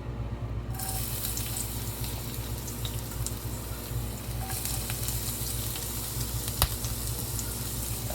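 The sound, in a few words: ginger and garlic frying in hot olive oil in pan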